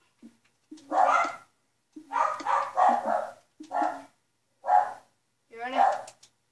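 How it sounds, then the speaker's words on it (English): Dogs bark indoors in a series of sharp, separate barks, about six bursts in close succession with short gaps between them, fairly near and loud. "sorry about that guys, my dogs"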